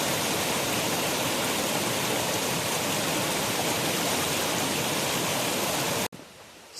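Deep Creek flows along a forest hiking trail, a loud, steady rushing wash of water close by that cuts off abruptly near the end, leaving quieter background.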